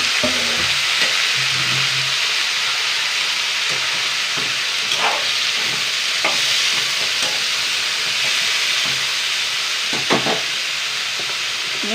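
Finely chopped potatoes fry in a pan of hot oil, giving a steady, loud sizzle with soft stirring scrapes and occasional clinks throughout.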